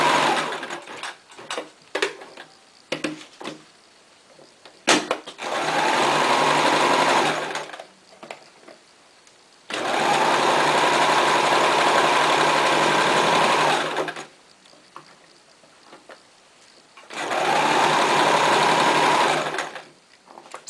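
A sewing machine runs a straight stitch around an envelope pillow cover at a quarter-inch seam: three sustained, close, steady whirring runs, each several seconds long, separated by short quiet pauses with light handling noises.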